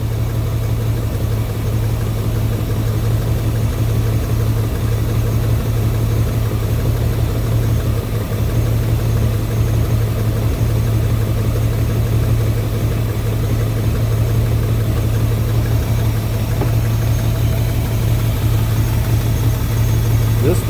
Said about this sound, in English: she's sitting here idling by herself